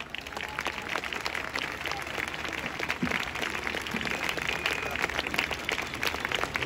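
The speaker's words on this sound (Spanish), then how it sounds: "Un aplauso." A crowd at a political rally at Puerta del Sol gives sustained applause, heard as a steady wash of many hands clapping at a fairly distant, even level for the full stretch, with no talk over it.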